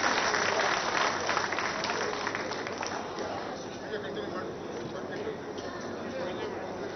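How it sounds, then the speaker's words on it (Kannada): Audience applause at a Congress party meeting in Karnataka, a steady wash of many hands clapping that holds for several seconds and eases slightly, with voices mixed in underneath. "ಎಲ್ಲರೂ ಕೂಡ ಜೋರಾಗಿ ಚಪ್ಪಾಳೆ ತಟ್ಟಿ ಅವರಿಗೆ ಸಹಕಾರವನ್ನು ಕೊಡಬೇಕು"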